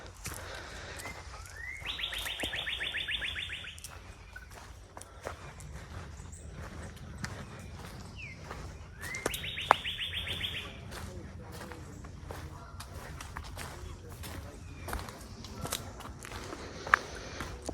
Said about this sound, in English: Blue jays.